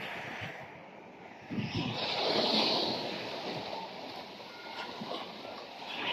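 Strong wind at the beach buffeting the microphone in a steady roar, swelling louder midway, with surf faintly underneath.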